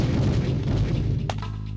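A grenade blast in the Sega Saturn arcade game Elevator Action Returns: a deep, rumbling boom fills the clip, and a short sharp crack cuts in near the end.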